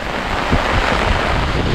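Water tumbles down over a rocky outcrop along a hillside path at Vamala, Pallassana, a steady broad rushing wash close by with some wind buffeting the microphone, no voices.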